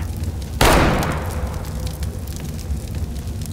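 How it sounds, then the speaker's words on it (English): Fireworks going off in Counter-Strike: a single sudden loud burst that fades over about half a second, followed by a steady background of game noise. "Fireworks!"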